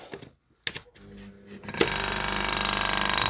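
A homemade air compressor starts up after a few clicks and knocks, then runs with a loud, steady rapid mechanical chatter close by.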